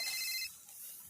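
A mobile phone ringtone trills briefly and faintly in a home, a high electronic tone that cuts off partway through, no voices.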